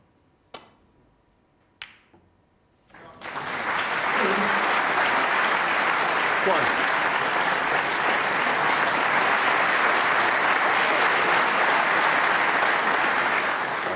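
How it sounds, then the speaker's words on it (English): Audience at a snooker World Championship semi-final breaks into a prolonged round of loud applause after a couple of sharp ball clicks, the clapping steady and sustained for about ten seconds. "Prolonged round of applause, but he had a little help from the green there."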